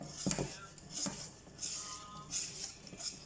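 A spoon stirs thick nut cake batter in a bowl, making soft repeated scrapes and light clinks in a steady rhythm, quiet and close.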